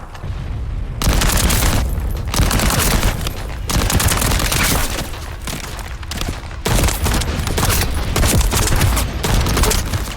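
Loud, dense gunfire from the shooter video game The First Descendant, rapid bursts and heavy thudding shots packed together with brief gaps, sustained close and continuous throughout.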